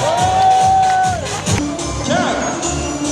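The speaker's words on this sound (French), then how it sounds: "faire un tonnerre d'applaudissements pour les bénévoles" A large crowd at the Corrida La Beaujoire 2025 running race cheers and claps at a distance, with whoops and a loudspeaker voice over the noise.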